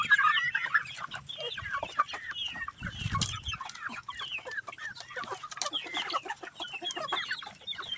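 Several chickens cluck and chatter continuously close by, overlapping busily, with a brief low rumble in the middle.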